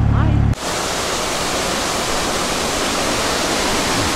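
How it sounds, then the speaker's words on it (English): Water pours heavily over canal lock gates in a close, loud, steady broadband rush that follows a brief cut from a different low sound at the start. "A fair bit of water coming over these gates."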